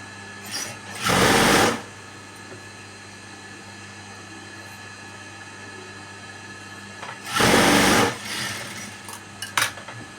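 A sewing machine stitches a blouse shoulder seam in two loud, close bursts of rapid mechanical whirring a few seconds apart, with quiet room hum and small clicks between.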